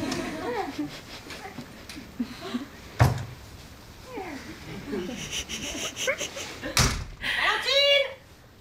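A door closes with a sharp thud in a room, followed later by another bang, amid scattered movement noises and a dog whimpering and yelping near the end.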